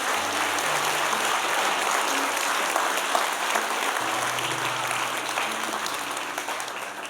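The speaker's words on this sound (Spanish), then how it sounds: "damos un aplauso" Congregation applause in a church, a dense, sustained roar of clapping that stays loud and even throughout, with faint tones and voices beneath it.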